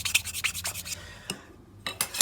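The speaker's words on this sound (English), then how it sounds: "So you can just sand the bloody thing down." A sanding plate tool rasps across a plastic part in quick, short back-and-forth strokes, close and alone, with a brief pause before the scraping resumes.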